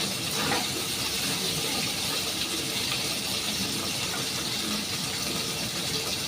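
Fish frying in oil gives off a steady, hissing sizzle with spattering, holding at an even moderate level throughout without pause.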